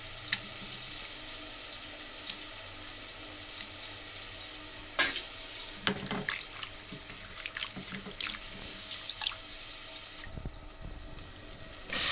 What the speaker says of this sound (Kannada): ಚೆನ್ನಾಗಿ ಹಸಿ ವಾಸನೆ ಎಲ್ಲ ಹೋಗೋ ಥರ ಫ್ರೈ ಮಾಡಬೇಕು